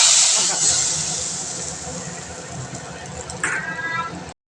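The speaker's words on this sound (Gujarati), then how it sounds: "દાળમાં કરશું આ વઘાર." Hot mustard seeds, cumin, curry leaves, chillies, asafoetida and red chilli powder tempered in oil and poured into mixed dal, giving a loud sizzling hiss that fades gradually, then flares again with a fresh crackle near the end.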